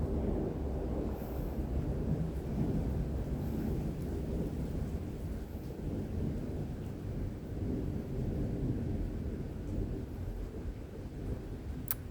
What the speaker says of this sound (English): Gosh, this thunder is insane.